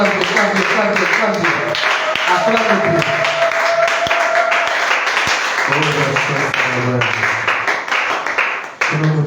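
A church congregation applauds and acclaims during a worship service, a sustained dense wash of clapping mixed with cheering voices and crowd noise, loud and continuous, with speech over it.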